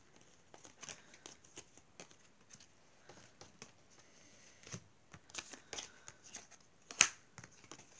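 Tarot cards are gathered and shuffled close by, producing soft rapid riffling and patting bursts with a sharper snap near the end.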